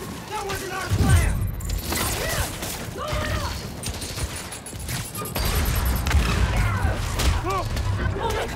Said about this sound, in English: Oh my god, the bridge is falling!